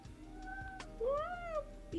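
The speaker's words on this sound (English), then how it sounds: "I have a kitty." A pet cat meows a couple of times indoors, close and clear, with rising and falling tonal cries and a short chirp at the end.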